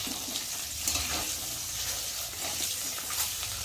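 Eggs fry lightly in a pan for an egg curry, giving a soft, steady sizzle with faint watery crackle at low level, continuous and unbroken, with no voices over it.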